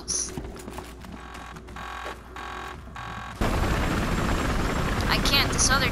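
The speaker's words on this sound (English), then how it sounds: "Wait, watch out. I see a helicopter." A helicopter's rotor thumps in steady rhythmic pulses in a video game, then a loud whooshing roar of engine and wind takes over, with game-like effects layered on top.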